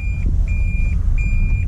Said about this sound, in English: It gives you a little bit of a beep